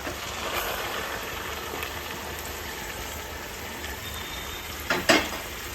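Chicken pieces and softened onions fry in hot oil, giving a steady broad sizzle throughout with a brief louder clatter near the end and no one talking.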